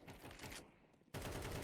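Rapid automatic gunfire in Counter-Strike 2, loud, near and dense: one sustained burst, a brief drop-off, then a second heavy burst.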